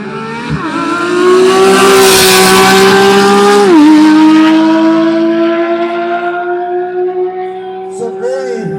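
A race car at a high-speed drag strip meet blasts past with a loud, sustained engine roar, the pitch rising through gear changes before fading into the distance.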